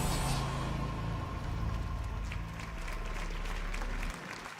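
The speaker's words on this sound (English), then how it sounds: "you hear the claps." A crowd claps steadily, a dense patter of applause that holds for about four seconds and then cuts off abruptly.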